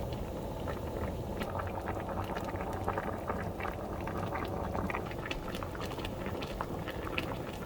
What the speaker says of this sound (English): Leave it on high heat till the fish stock starts to boil.